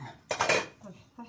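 A cooking pot for stuffed peppers with rice in a Turkish-style home kitchen, handled with a few clanking metallic knocks and scrapes, one brief burst followed by a softer bump.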